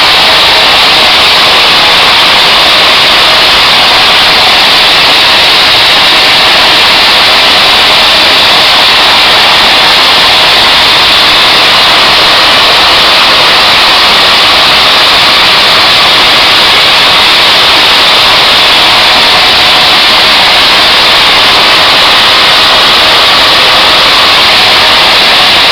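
Savannah ultralight aircraft engine held at 5000 rpm in flight, a steady, loud broadband drone with constant hiss and no change in pitch throughout, no voices over it.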